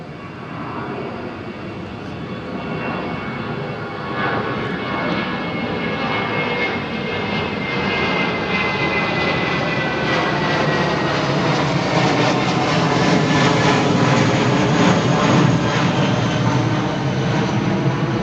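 A jet airliner departs from runway 09R at London Heathrow Airport, its loud engine roar building steadily and holding throughout, with a rich rumble and a slowly shifting whine as the aircraft accelerates and passes.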